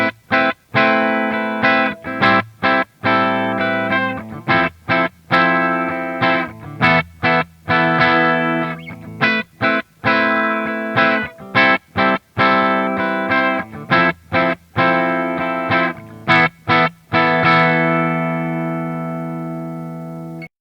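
Heavily distorted high-gain electric guitar played through a Revv Generator amplifier on its blue channel, loud palm-muted chugs and chords chopped by sharp stops, with a long ringing chord near the end.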